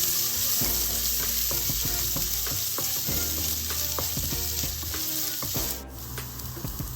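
Ginger and chana dal sautéing in a pan for potato masala, a steady close sizzle with scattered crackles and pops and a few stirring scrapes, no talking.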